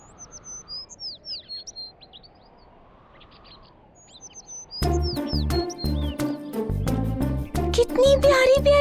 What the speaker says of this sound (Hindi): कितनी प्यारी प्यारी चिड़िया है।